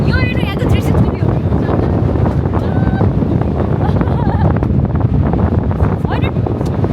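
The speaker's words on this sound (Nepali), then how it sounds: "कस्तो चलेको हावा" Strong wind buffeting the microphone on top of the Eiffel Tower in Paris, loud continuous roaring gusts with voices talking over it.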